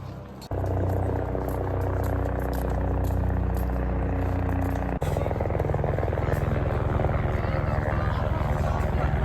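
Helicopter departing Guptkashi in the Himalayan mountains of the Char Dham route, a loud, steady rotor and turbine roar close by throughout, with a sudden shift in tone partway through as the machine changes pitch.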